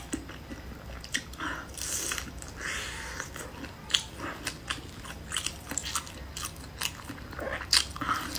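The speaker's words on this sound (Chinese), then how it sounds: "我吃的是黑胡椒的" Close-up eating of black pepper flavored noodles, with crisp bites and chewing crunches that come in irregular bursts, intimate and fairly quiet with no talk.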